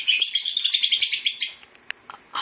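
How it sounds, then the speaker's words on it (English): Pet birds chirp loudly indoors, a rapid run of bright, repeated tweets close by for over a second, then a few scattered calls trailing off. "my birds are very loud"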